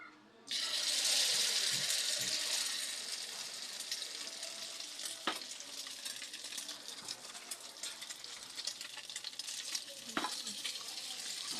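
Food frying in a pan on low heat, a bright sizzle bursting in suddenly and then settling into a steady crackling hiss with occasional knocks and rattles.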